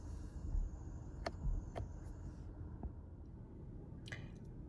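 Rear windscreen washer and wiper on a 2020 Toyota Corolla Touring Sports GR Sport, heard from inside the car as faint squishing, a few quick wiper sweeps and a brief spray, quiet and without talking.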